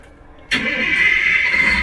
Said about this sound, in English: It says press the blue flashing light to to start the engine.